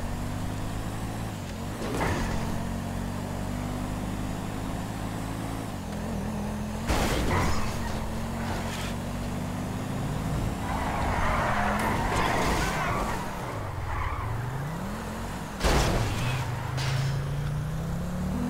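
A VAZ-2101 in the video game GTA 5 drives with a droning engine that rises and falls through gear changes, punctuated by several sharp tire skids and squeals, with occasional voices in the background.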